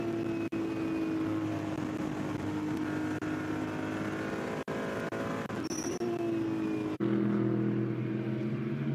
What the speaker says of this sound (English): Is there anything sweeter than the sound of a Ferrari 296 on board?